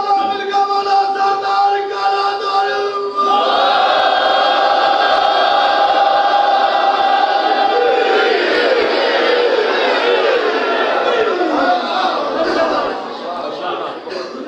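A large crowd at a religious gathering chants slogans in unison, loud and massed, with a voice leading over the start before the chorus swells and holds, then fades slightly.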